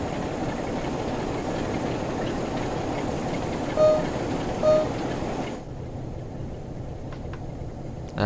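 Class 47 diesel locomotive running in Train Sim World 2 on a Northern Trans Pennine route, a steady rumbling rail drone with two brief tonal blips, dropping to a quieter idle-like hum near the end.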